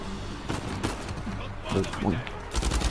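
Bursts of gunfire crackle in the video game Uncharted 4, several rapid shots and volleys scattered through the clip, loud and close, mixed with someone talking over the action.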